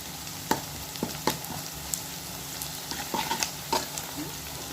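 Onions sautéing in a pan for a fish curry, a soft steady sizzle broken by several sharp spoon scrapes and taps against the pan as they are stirred, close up with no talking.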